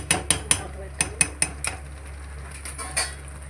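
Mutton curry is stirred in a pot, a quick run of sharp metallic spoon clinks against the vessel followed by softer scattered knocks, close and fairly quiet.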